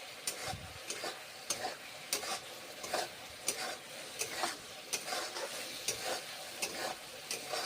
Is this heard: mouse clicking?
no